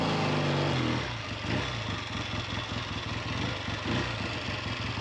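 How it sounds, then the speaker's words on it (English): A Triumph T90 motorcycle engine runs close up, settling from a rev into a steady, loud, rhythmic idle with even firing pulses throughout. "the bike seems to run really well at the moment. Seems to rev up alright"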